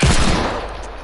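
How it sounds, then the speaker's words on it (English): Rapid hand cannon gunfire in a shooting video game, a loud burst of sharp shots crowding together at the start and then trailing off into a lingering rumble. "I have a hand cannon."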